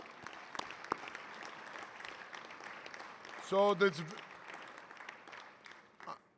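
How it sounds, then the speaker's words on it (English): Audience applause fills a plenary session hall, a steady patter of clapping running under a speaker's voice, with a brief louder burst midway. "applause to you for your great work"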